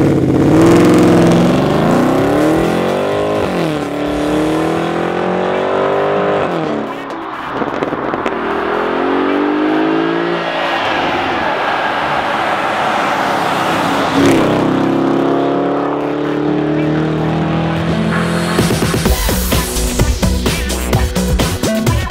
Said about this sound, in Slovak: tu máš športový mod, ktoré otvorí klapky vo výfukoch a za chvíľku budete počuť ten úžasný zvuk